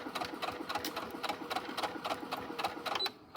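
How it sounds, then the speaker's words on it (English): Home sewing machine stitching over gathered fabric on a shirt sleeve, a steady rapid mechanical whir with rhythmic needle pulses, close and continuous, stopping abruptly near the end. "We're going to sew over all these beautiful gathers, and this will give our sleeve this wonderful puff"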